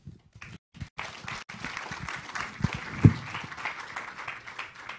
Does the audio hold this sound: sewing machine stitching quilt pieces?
no